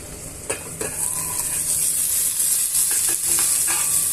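Carrot pieces cook in a covered pan with a steady, hissing sizzle, broken early on by a few light knocks, close and continuous.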